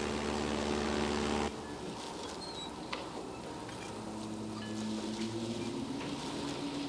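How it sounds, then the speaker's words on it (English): A distant propeller aircraft drones steadily overhead at night, a low rumbling hum that slowly shifts in pitch, heard alone in a quiet open setting at sea. "It was an airplane, right?"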